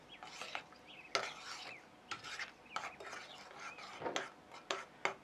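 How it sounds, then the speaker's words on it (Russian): Waffle batter stirred by hand in a bowl, with a whisk or spoon scraping and clinking in uneven close strokes, fairly quiet and without talk. "Все перемешиваю"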